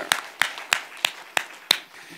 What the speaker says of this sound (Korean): 박수로 하나님께 영광.